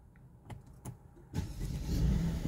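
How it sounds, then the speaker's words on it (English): A Mercedes GLE 350 engine starts partway through, a short crank settling into a steady idle hum after a few faint clicks and thumps inside the cabin. "You actually have to start the car"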